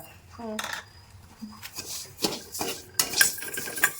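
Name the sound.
dry roasting urad dal, cumin and spices in a pan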